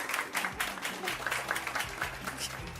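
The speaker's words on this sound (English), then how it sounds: "No, you can clap. You can clap. Go for it." A television studio audience claps on a daytime lifestyle show, a steady patter of hands mixed with voices and a low musical bed underneath.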